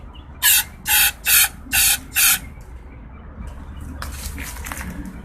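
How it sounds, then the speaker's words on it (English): Choke cleaner sprayed into the intake of a non-starting Bolens 11A-B0BL765 engine with a carburetor: five short, evenly spaced, loud aerosol hisses close by, followed by quieter background rustling. "I'm also going to spray into the intake."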